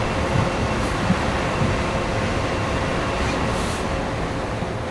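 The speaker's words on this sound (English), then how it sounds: "a fairly long empty intermodal train" A long, empty intermodal freight train rolls past, a steady, loud rumble and clatter of wagons that holds from start to finish with no voices.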